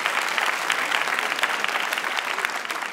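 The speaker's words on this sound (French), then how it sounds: "On peut l'applaudir bien fort, s'il vous plaît" Steady, dense applause from an audience at an evening event in Lille, a continuous wash of many hands clapping with little talk, moderately loud throughout.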